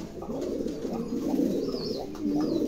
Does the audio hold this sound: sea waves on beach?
no